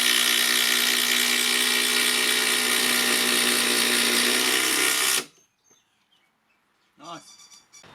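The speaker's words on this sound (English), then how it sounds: "Now I am drilling 68mm, like I said." A Dewalt Powerstack hammer drill bores a 68mm hole with a hole saw, a loud, steady high-pitched whine that cuts out abruptly, followed by near silence and a short burst of chirping sound.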